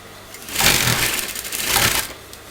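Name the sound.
sewing machine stitching kurta fabric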